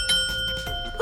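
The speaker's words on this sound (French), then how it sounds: "Une sonnette! Écoutez!" A bell rings briefly and faintly, its bright ringing tone shimmering for about a second over a muffled background.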